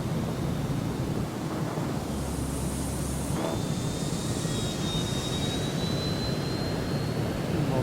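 An E-Flite Draco RC plane streaks past over a beach, its motor rising into a thin whine and whoosh partway through, over steady, heavy wind roar.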